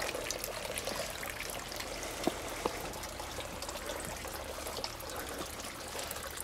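Water pours steadily from an inlet into a small pond in a pondponics setup with a solar pump, a continuous close splashing trickle with bubbling, no talk.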